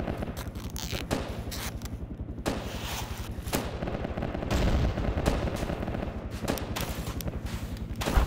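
Sustained automatic gunfire in Battlefield 2: Project Reality, a steady rapid stream of rounds from a close weapon laying down suppressing fire, punctuated by heavier single cracks and distant shots throughout.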